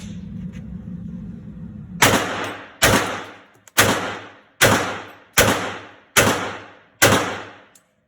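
Seven sharp, loud gunshots from a gun fitted with an extended magazine, fired at a slow, fairly even pace outdoors, each crack followed by a brief decaying echo, after a low rumble at the start.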